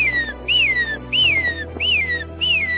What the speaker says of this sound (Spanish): Con este silbido, Santos llama a su ganado, que le responde obedientemente.